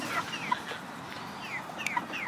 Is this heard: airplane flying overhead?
no